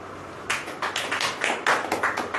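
Church congregation claps together during a Hindi Christian sermon, a dense burst of hand claps starting after a short pause and continuing in uneven rhythmic waves, fairly loud and close.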